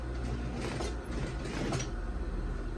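A sewing machine backstitches across a pocket seam on a zippered lab coat, giving off a steady, close mechanical whirr and clatter for a few seconds.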